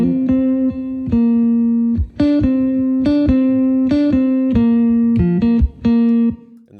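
Electric guitar played through a dry Fender amp plugin, a run of clean, sustained picked notes with steady level and short gaps between phrases, with no talking.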